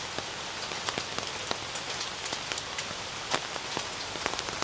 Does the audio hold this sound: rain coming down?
yes